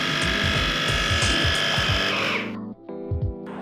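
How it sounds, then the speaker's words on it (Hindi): A mixer grinder runs at full speed, blending jalebi batter of flour and yellow food colour with a loud, steady whirring drone that cuts off near the end and then briefly restarts. "इसे दोबारा ग्राइंड कर लेंगे।"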